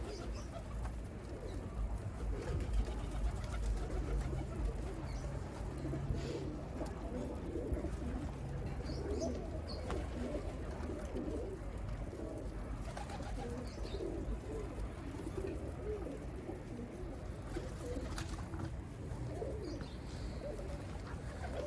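Pigeons coo softly and repeatedly against a steady outdoor background hum, with occasional faint chirps mixed in.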